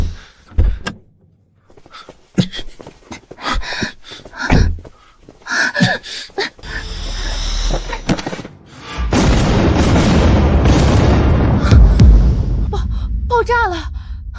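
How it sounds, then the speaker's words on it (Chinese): A car bomb goes off in a dramatic short-drama scene. Tense dialogue and clicks give way to a loud, sustained broadband roar of the blast, with voices rising over it at the end. "爆炸了！"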